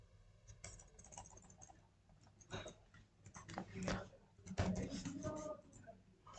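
Rapid computer keyboard typing while writing Java code, keys clacking in irregular bursts up close beneath someone speaking Hindi.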